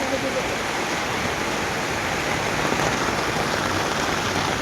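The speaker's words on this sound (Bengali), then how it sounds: "দেখো কি হারে বৃষ্টি হচ্ছে" Heavy rain pours down at a fair, drumming on a market stall where goods are left out, as one dense, continuous roar with no let-up.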